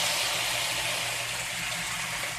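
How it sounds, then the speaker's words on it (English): A continuous rush of water pouring into a pan, a broad splashing hiss that stays steady and fairly loud for a couple of seconds, no talking. "I'm going to go ahead and pour that over in there"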